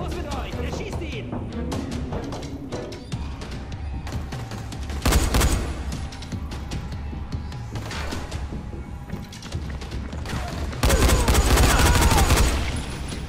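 Rapid bursts of gunfire in the zombie video game Dying Light, with volleys of shots and thuds loud and up close, the heaviest firing near the end, over a busy game soundscape with someone talking.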